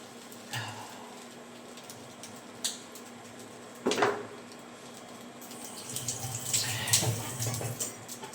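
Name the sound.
water running from tap to wash a kitchen knife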